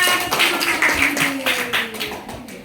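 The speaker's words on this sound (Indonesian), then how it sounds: "Beri tepuk tangan kelompok 2. Lebih meriah lagi ya." Classroom applause for a student group about to present: a short, scattered burst of clapping from a small group, with voices mixed in.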